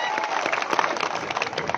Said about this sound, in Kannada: ಜೋರ ಚಪ್ಪಾಳೆ ಹೊಡಿರೋರು.